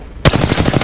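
Automatic gunfire in the video game Apex Legends cuts in abruptly as a loud, close, rapid burst of shots.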